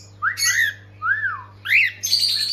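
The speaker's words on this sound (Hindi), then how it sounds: "हमारा वो कुत्ता दोस्तों कोयल की तरह आवाज निकालती है।" A dog in a residential colony makes sweet, koel-like calls: three rising and falling whistled squawks, each about half a second, repeated at a steady pace, fairly close and clear over a low steady hum.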